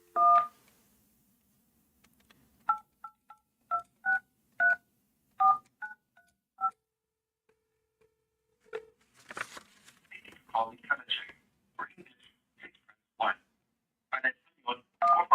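Telephone keypad tones while placing a call: about a dozen short, evenly spaced beeps, then a person's voice, with further tones mixed between the words.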